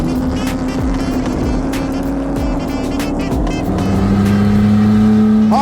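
A 1952 Jaguar XK-120 roars hard under acceleration on the Laguna Seca road course, its engine note loud and close, climbing steadily through the gears with a rising pitch near the end.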